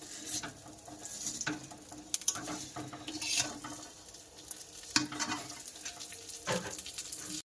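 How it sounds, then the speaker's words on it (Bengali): Soft sizzling of food frying in a pan, with scattered clicks and scrapes of stirring; quiet, no talking. "তো চলো এটা ভেজে নিই"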